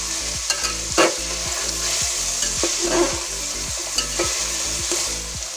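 Vegetables for fried rice frying in a pan while being stirred briskly, a strong close sizzle broken by regular rhythmic spatula scrapes and clacks.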